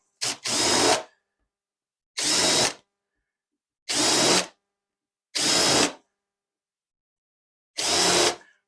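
A power drill drilling wood whirs in five short, loud bursts separated by silent pauses, close by, with no other sound between.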